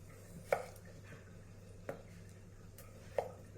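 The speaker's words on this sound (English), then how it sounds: "Chopping the potato." A knife chops through a potato on a board while cooking, three distinct sharp knocks spaced about a second apart over a quiet room hum, with no talking.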